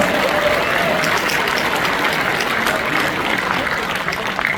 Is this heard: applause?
yes